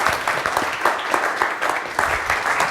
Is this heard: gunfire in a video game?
no